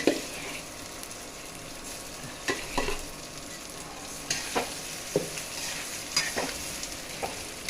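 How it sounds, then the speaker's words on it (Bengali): Marinated Gobindobhog rice fries lightly in hot oil for Bengali basanti pulao. A steady sizzle runs throughout, broken by repeated close spoon scrapes and stirring knocks in an uneven rhythm. No talking. "এবার এর মধ্যে আমি যেটা মেখে রেখেছিলাম রাইসটা, ওটা দিচ্ছি। ওটাকে দিয়ে আগে আমি একটুখানি হালকা ফ্রাই করে নেব।"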